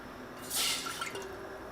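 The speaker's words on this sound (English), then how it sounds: "we're going to add 1/4 cup of water" A quarter cup of water splashes into a saucepan on the stove for a sugar syrup, a short close pour that swells and then trails off into faint drips.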